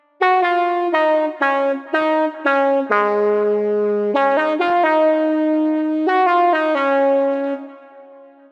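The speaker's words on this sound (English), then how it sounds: "It's this really ambient lead, which can work really well in breakdowns as well as in drops." A bright, airy ambient slap house synth lead plays a slow melody of sustained notes with soft attacks and long reverb tails, alone and fairly loud.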